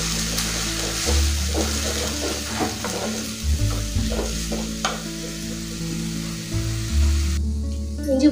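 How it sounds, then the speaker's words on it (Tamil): Ginger, garlic and onion paste fries in a pan with steady close sizzling, stirred now and then with scraping strokes of a spoon, no voices. "இஞ்சி பூண்டு வெங்காய பேஸ்ட்டு பற்றி நல்லா வதங்கிடுச்சு"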